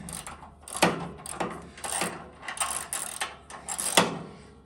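An open end wrench works on the igniter fitting of a Freedom Stoves Independence PS21 pellet stove, giving close metallic clicks and ratcheting scrapes in irregular bursts, fairly quiet, with no talking.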